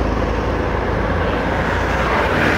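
A yellow Porsche 911 of the 992 generation passes by during car spotting, a steady broadband engine and road roar holding loud and even throughout, with no voices over it.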